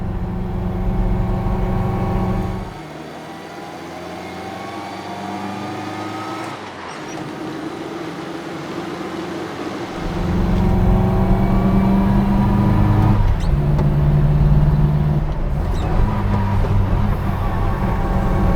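A BMC 1100 car engine pulls up a hill with a steady, loud, continuous drone and harmonic whine, dipping briefly in level before swelling back to a stronger, sustained pull.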